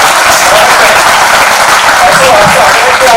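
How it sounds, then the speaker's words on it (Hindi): Seminar audience in Bhopal applauding as a guest takes the stage, thick, sustained clapping from a large crowd filling the room, very loud and unbroken, with faint voices mixed in. "मैं सभी से आग्रह करूंगा कि तालियों के साथ, करतब ध्वनि के साथ"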